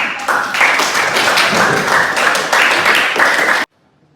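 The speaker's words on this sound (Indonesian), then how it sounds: "Saya merasa puas dengan jawaban kelompok 1. Berikan aplaus." Classroom applause from a high school student group, dense clapping from many hands filling the room at steady loudness for several seconds before stopping abruptly.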